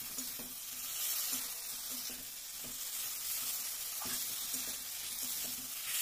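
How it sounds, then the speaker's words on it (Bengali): Fried potatoes are stir-fried with spices in a pan for Bengali chital fish curry, giving a steady close sizzle with regular scraping stirs and light clatter. "এবার এর মধ্যে দিয়ে দেব ভেজে রাখা আলু। আলুটা দিয়ে আবার আমি মশলার সঙ্গে ভালো করে কষিয়ে নেব।"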